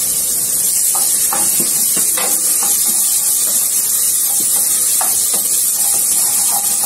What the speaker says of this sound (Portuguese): Aí agora eu vou colocar aqui o alho para dar uma dourada.